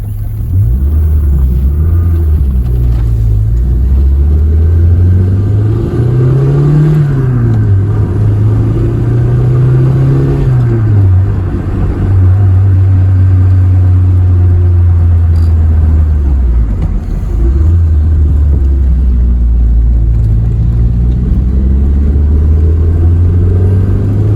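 A loud, close turbocharged 1984 Dodge Daytona Turbo Z engine drones and rises in pitch as it accelerates, then drops and climbs again across several gear changes.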